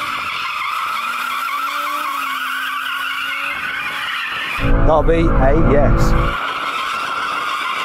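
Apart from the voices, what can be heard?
Audi RS3 tyres skidding while drifting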